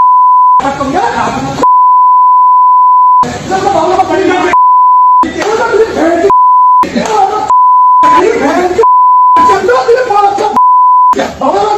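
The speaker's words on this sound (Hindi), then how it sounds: "कई जगह बीप लगाना पड़ा, सॉरी।" Loud steady censor beep tones repeatedly bridging the gaps between bursts of shouting and abusive crowd voices, recurring throughout a chaotic street confrontation clip.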